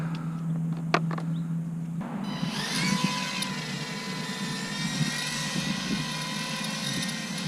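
An Eachine FatBee FB90 micro drone flies with a high, buzzing motor whine and loose rattling, its pitch shifting as it maneuvers, fairly close and continuous.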